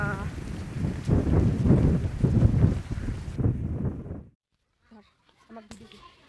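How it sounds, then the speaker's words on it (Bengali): Strong gusting wind from a Kalbaishakhi storm roars and buffets the microphone for about four seconds, then cuts out, leaving quiet with a few faint sounds. "ওই দেখো কি হাওয়া"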